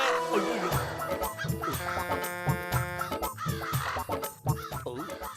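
Cartoon crows cawing in a Motu Patlu animated episode, harsh squawking calls repeating over a busy, loud musical soundtrack throughout.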